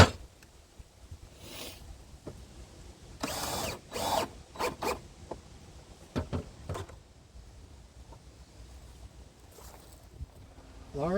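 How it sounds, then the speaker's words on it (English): Screws being driven to fix the bottom piece into the frame of a homemade cannon, with bursts of ratcheting and mechanical whirring at an irregular rhythm, close and moderately loud. "Let's screw it into the frame."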